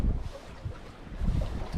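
Gusty wind buffets the microphone in low rumbling bursts during a storm at sea off Samsun while fishing, with a faint wash of water in the background and no talking.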